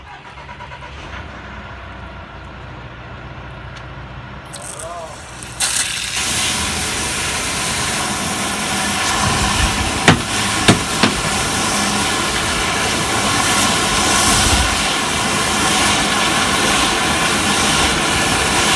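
A sewer jetter fitted with an RPD nozzle on half-inch hose fires up, building into a loud, continuous roaring rush with a few sharp knocks, sustained to the end.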